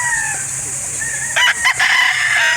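A rooster crows loudly and close by at a chicken market in Calauan, Laguna, one long strained call rising after softer clucks from nearby fowl.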